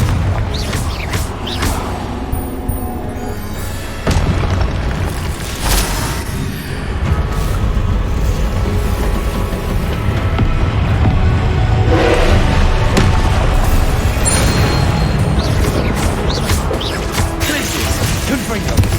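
Confringo blasting spells in the video game Hogwarts Legacy go off as repeated booming blasts and crashes within dense combat noise, loud and continuous, with a voice calling out spell names throughout.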